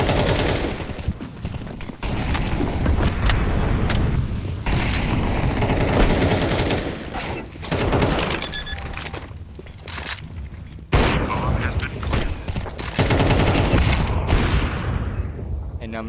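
Counter-Strike match gunfire, with dense bursts of automatic rifle shots and rapid fusillades that cut in and out, loud and close, with brief lulls and game sounds between volleys.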